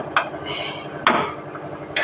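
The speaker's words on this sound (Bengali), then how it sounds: "আবার একবার নাড়তে এলাম, দেখি নিচেটা লেগে যাচ্ছে কিনা" Khadai chicken gets stirred in a cooking pan, a utensil clinking and scraping against the metal three times at roughly even intervals over a low background hum.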